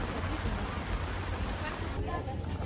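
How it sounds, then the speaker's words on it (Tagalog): Heavy rain falling outdoors, a dense steady hiss of drops with a low rumbling undertone, continuous and fairly loud before easing slightly near the end. "Inabot na ng ulan."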